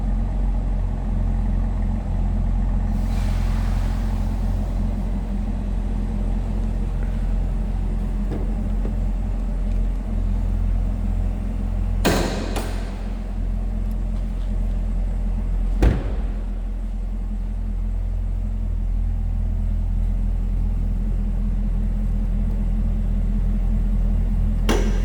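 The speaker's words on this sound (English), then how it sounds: "Nice throaty exhaust note." A 2024 Chevrolet Camaro ZL1 convertible with a supercharged 6.2-liter LT4 V8 idles steadily from behind, giving a deep, constant low rumble with a couple of brief clicks and knocks.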